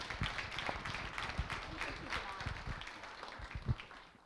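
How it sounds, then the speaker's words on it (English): An audience claps and applauds after a talk at a livestreamed history event, with steady, moderately loud clapping from a small crowd running throughout. "Again, another round of applause for Scott"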